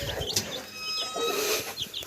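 Young chicks cluck and chirp softly nearby in a farmyard, a few overlapping calls in quick succession with no talking.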